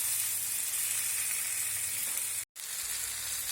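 Tomatoes fry in a pan for a soy sauce fish curry, giving a steady, even sizzle close up that cuts out for a moment near the end before resuming.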